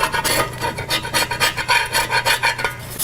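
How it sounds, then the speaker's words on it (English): Old gasket pieces scraped off an oil pan by hand: a steady series of rough, rasping strokes in a quick even rhythm, close and fairly loud, with no talking. "So we'll scrape these little pieces here off."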